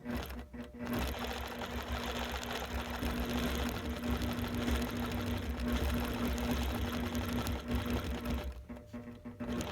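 A sewing machine stitches along an embroidery line with a fast, steady mechanical whir and needle chatter, running continuously after a brief stop-start at the beginning and slowing near the end.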